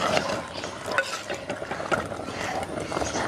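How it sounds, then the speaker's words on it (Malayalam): Pumpkin and raw banana curry is stirred in a pot as it boils, giving a continuous scraping and bubbling sizzle with a few louder scrapes of the spoon and no talking. "നമുക്കൊന്നും കൂടി ഒന്ന് ഇളക്കി കൊടുക്കാം."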